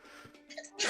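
A single short sneeze at close range, ending in a sharp breathy burst, during a casual Yu-Gi-Oh! card game.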